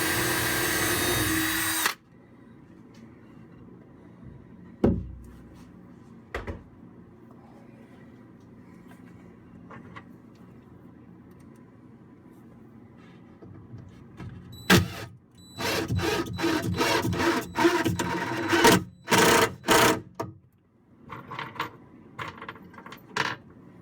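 A power drill boring holes and driving screws into clamped drawer fronts on a chest of drawers: an early loud whir, a few isolated knocks, then a cluster of short, close, stop-start drilling bursts toward the end.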